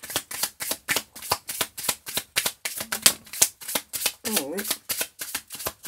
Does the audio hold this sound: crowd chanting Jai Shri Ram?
no